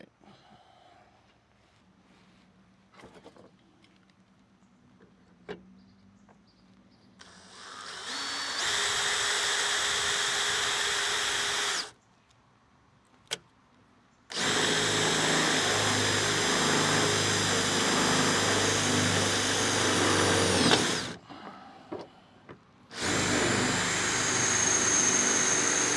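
A vacuum cleaner runs in three long, steady bursts of loud whooshing motor noise, switching off briefly between them, after a quieter stretch of faint handling sounds.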